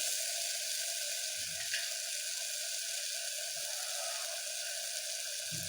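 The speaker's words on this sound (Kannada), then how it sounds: "ಶುಂಠಿ ಬೆಳ್ಳುಳ್ಳಿ ಪೇಸ್ಟ್ ಹಾಕಿದ್ಮೇಲೆ ನೀಟಾಗಿ ಸರಿ ಕಲ್ಸ್ಕೊಂಡ್ಬಿಡಿ" Ginger garlic paste frying in a pan for vangi rice bath, a steady soft sizzle throughout with a few faint low knocks of a spoon, no voices.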